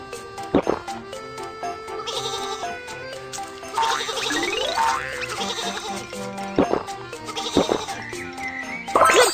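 Cartoon sheep bleat repeatedly in a kids' train game, mixed with cheerful music, jingles and bouncy sound effects, with several sharp bleats standing out.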